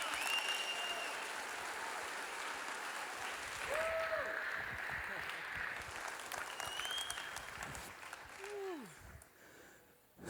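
A church congregation applauds during a morning service, steady sustained clapping across the room with faint cheers and whoops rising over it, fading out near the end.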